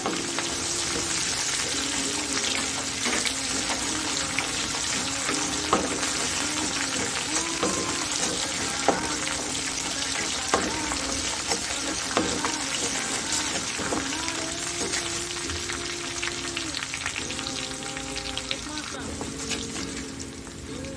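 Ginger frying in a pan for a potato fry, a constant dense sizzle running throughout with scattered small clicks and scrapes of stirring, close and fairly loud.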